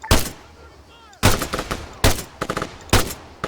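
Enemy machine gun fire in the Arma 3 video game comes in four short loud bursts of rapid automatic shots separated by brief pauses, with faint decaying echo between them.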